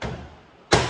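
A window frame is knocked into place with one solid thud that follows a fading earlier impact, close and short.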